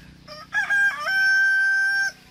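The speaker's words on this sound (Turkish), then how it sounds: "Bir de videoda öten horoz hangisi?" An İspenç breed rooster crows once, loud and close, a long drawn-out call that rises then holds steady before cutting off.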